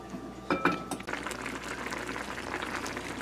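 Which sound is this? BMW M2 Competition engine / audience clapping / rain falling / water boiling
water boiling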